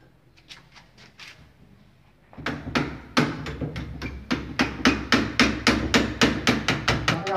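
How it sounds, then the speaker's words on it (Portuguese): A hammer drives a metal lock pin into a wooden door: a few light taps, a short pause, then a long run of loud, evenly spaced strikes, close and ringing, with no talk. "Com martelo."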